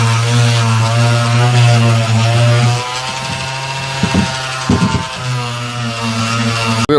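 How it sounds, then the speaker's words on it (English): A power sander works over the edges of a homemade wooden step stool, a loud, steady close-up motor drone that dips briefly mid-way and is broken by a few scraping rubs before resuming. "I'm just going to sand over these edges like I said"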